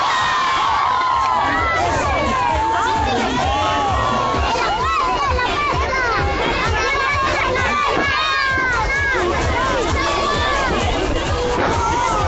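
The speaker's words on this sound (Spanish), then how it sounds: "El que más grita más fuerte." A crowd of schoolchildren shouts and cheers as loud as they can in a contest, a dense continuous roar of overlapping high voices with occasional spoken calls mixed in.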